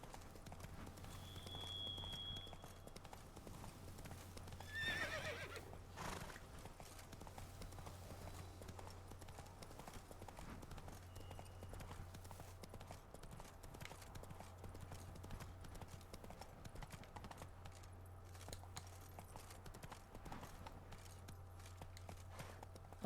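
Hooves of the horse Roach clip-clop in a steady trotting rhythm in Witcher 3: Blood and Wine, a continuous moderate beat under faint game ambience, with no talking.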